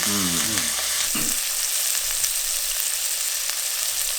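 Beef browning in a hot pan on a cooktop gives a steady, loud sizzle and fry throughout, with a brief clatter of stirring near the start and no talk.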